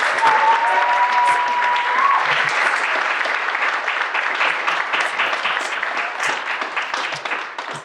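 Sustained audience applause fills a Delaware arts awards ceremony, dense and steady throughout, with a brief whistle near the start and the clapping easing slightly toward the end.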